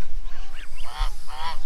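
A farmyard goose honks several times up close, loud harsh calls with steady outdoor background noise, at a home with chickens and peacocks.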